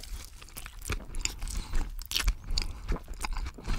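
Close, wet chewing and biting of food with the mouth open, a steady run of crunchy smacks and soft scrapes spread across the few seconds, with no voice.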